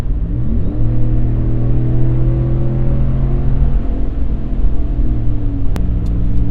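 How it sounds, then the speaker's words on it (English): Ram 1500 pickup with a Borla S-Type exhaust at full throttle, a loud steady exhaust drone whose pitch climbs as it accelerates, then a sudden gear change near the end, with no talking. "Full throttle pull."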